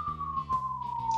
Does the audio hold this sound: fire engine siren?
yes